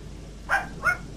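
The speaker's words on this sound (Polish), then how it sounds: "mocne to jest ten piesek" Dog in the game Gothic 2 barking while attacking: two sharp, close barks about a third of a second apart over a quiet background.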